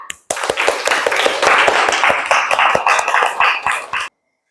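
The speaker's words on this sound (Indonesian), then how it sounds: "Kita kasih tepuk tangan untuk kelompok 3 yang sudah diwakili oleh Mbak Vira dan Mbak Tata" A classroom of students claps for a student group that has just presented, a short, brisk burst of distinct hand claps lasting about four seconds before cutting off abruptly.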